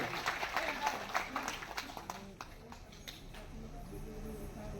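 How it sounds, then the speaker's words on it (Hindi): An audience at a ceremony breaks into applause, a loose patter of many hands that is strongest at first and thins out, with voices heard beneath it. "एक बार उपस्थित उन सभी सदस्यों के लिए जोरदार तालियों से उनका अभिनंदन करिए"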